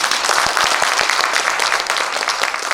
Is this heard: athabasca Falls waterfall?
no